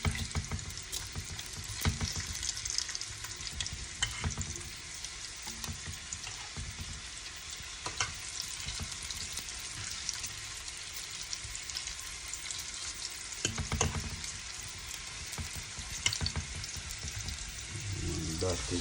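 Bacon frying in a pan over a low flame for a Jamaican breakfast, a steady close sizzle and crackle with scattered pops and faint stirring throughout.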